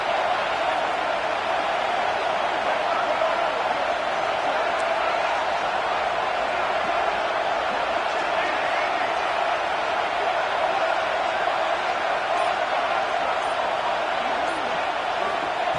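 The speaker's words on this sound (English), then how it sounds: "Listen to the crowd energy here in the early going." A dense, steady roar of a large stadium crowd fills the whole stretch, with no breaks or distinct voices standing out.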